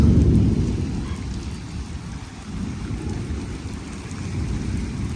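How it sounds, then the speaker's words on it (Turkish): Rain falls hard and steady, opening with a deep rumble of thunder that fades into the continuous downpour. "Geldi yağmur."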